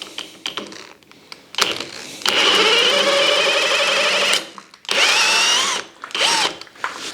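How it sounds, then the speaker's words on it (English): A power drill bores through wood to fit a handle on a tapered reamer for Windsor chair making. After some light clicks, long loud whining bursts of the drill come close up, separated by short pauses. "Okay, hole drilled through, and our handle is fitting nicely and snug in there"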